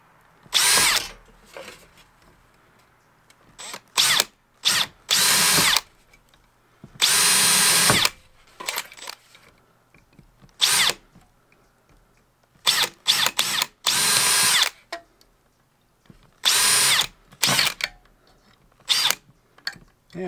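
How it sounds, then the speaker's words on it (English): Power drill boring holes in aluminum and steel parts for a microhydro waterwheel build, in repeated loud bursts of a second or two separated by quiet pauses, with faint clinks between runs. "somebody's drilling crooked"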